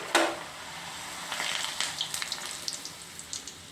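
Puri dough dropped into hot oil for frying, a brief sizzling splash at the start followed by a steady soft crackle and scattered bubbling pops, close and fairly quiet.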